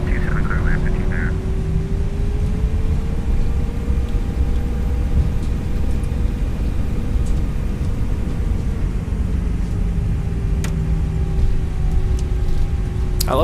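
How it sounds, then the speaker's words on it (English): Airbus A321 engines from the BSS sound pack in X-Plane 12, a steady loud roar and whine that slowly shifts pitch, continuous and close, with no talk. "this sound pack is the BSS sound pack for the Tolos Airbus, and I really love these engine sounds"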